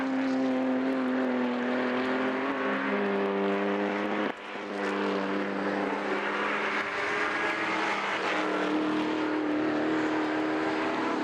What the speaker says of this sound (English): cars are now rolling around the backside of the racetrack here